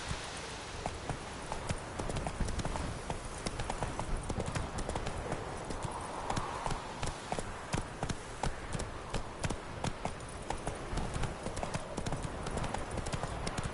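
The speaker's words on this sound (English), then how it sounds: "Whoa there, Roach." Horse hooves clip-clop in a steady, continuous rhythm throughout, mid-distance and moderately loud, in The Witcher 3 video game with faint voices occasionally underneath.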